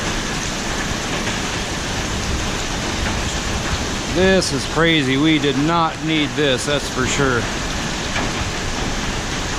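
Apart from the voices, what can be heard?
severe storm with heavy rain and hail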